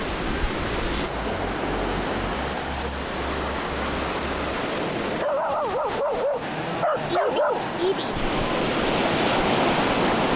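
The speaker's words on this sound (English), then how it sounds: "The dog just got like really upset at another dog coming by" On a busy beach, a dog barks and yips in a quick burst of several sharp calls partway through, over constant loud surf and wind.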